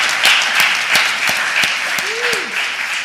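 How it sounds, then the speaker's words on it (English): An audience at a council honoring ceremony applauds in a sustained burst of clapping, swelling and easing in waves, with a brief voice rising over it near the end. "Can I get a round of applause for that?"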